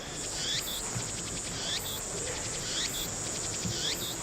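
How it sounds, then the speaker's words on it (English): Crickets chirp in the Steins;Gate visual novel game, a steady, fairly loud run of repeated high trilling pulses in even rhythm over a faint background hum, with no talking. "that fucking cricket noise"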